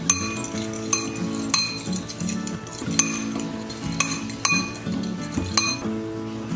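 Spoon stirring sugar and cinnamon together in a bowl, a run of light clinks and scrapes against the bowl's side, close and fairly steady, with no talking.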